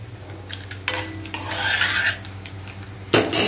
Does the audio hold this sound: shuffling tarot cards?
no